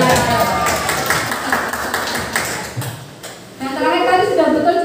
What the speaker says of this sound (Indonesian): Tepuk tangan dong untuk Mas Dedi.